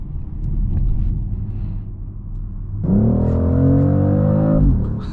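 A 2025 BMW X3 M50 engine under hard acceleration through its ZF 8-speed gearbox, a low rumble that jumps into a loud, rising harmonic roar, then drops off abruptly at a quick gear change, close and with no talking.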